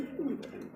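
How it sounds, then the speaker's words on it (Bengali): A pair of Maltese pigeons coos close by, low throaty burbling notes in two soft swells over about a second, with no voices. "এখানে দেখতে পারতেছি ডিমান্ডা নিয়ে বসে আছে একজোড়া মাল্টেস কবুতর"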